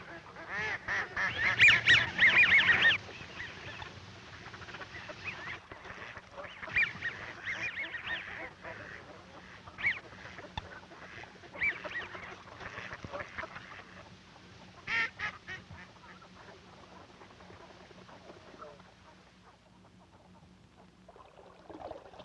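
Widgeon ducks calling in spring by thawing northern waters, a busy chorus of whistles and honks, loudest at the start and then scattered and fading, moderately close with no talking.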